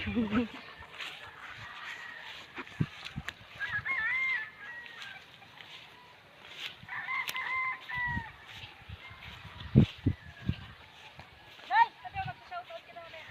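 Chickens cluck and squawk in short bursts close by at a seaside spot, with a rooster-like call mixed in, while people talk over the birds.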